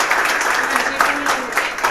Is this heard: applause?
yes